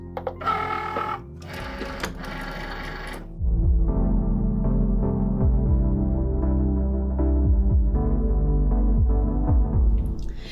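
A Cricut cutting machine fitted with a scoring wheel scores a birthday card, giving a steady, close mechanical whir with pulsing motor strokes after a few brief clicks and shuffles at the start.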